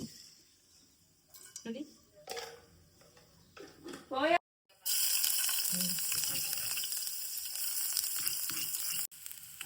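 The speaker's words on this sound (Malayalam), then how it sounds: "നമ്മളിതില് കുറച്ച് എണ്ണ ഒഴിച്ചു, കടുകിട്ടു" Mustard seeds hitting hot oil in a home kitchen set off a loud, steady crackling sizzle that starts abruptly after a stretch of talk and clatter, then runs on without a break.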